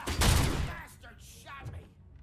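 Video game gunfire bursts out in a quick loud volley, then trails into fainter scattered shots and game effects over the next couple of seconds.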